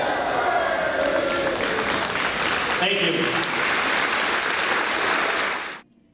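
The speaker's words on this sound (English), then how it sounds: "give him a little round of applause here" Steady audience applause fills a sports reel event, dense and sustained for nearly six seconds before cutting off, with a brief spoken thanks heard over the clapping.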